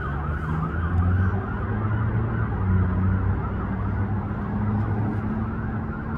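Emergency siren from a police car passing by, steady wailing tone mixed with road traffic rumble, fairly loud and continuous with no talk.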